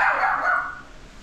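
A dog barks sharply a couple of times close by, the yelps fading quickly into a quiet background.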